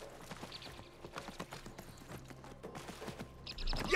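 Horse hooves clop in Assassin's Creed Mirage, a quiet, somewhat irregular run of hoofbeats over low game ambience, ending in a louder rush of noise.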